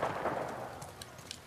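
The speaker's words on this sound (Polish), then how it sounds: "Strzały coraz bliżej." Gunfire in The Last of Us Part II: a low, rumbling wash of distant shots with a few faint, sharp cracks toward the end, fairly quiet and with no talk over it.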